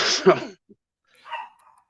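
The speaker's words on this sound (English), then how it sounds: "my dog is barking" A dog barks indoors in a short burst, loud and close at the start over a talking voice, then a fainter second bark follows after a pause.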